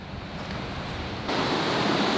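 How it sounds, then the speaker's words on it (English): Rough, heavy sea surging against the rocky Maine coast, a steady broadband roar that swells louder about halfway through, with wind mixed in and no voices. "That's an angry sea."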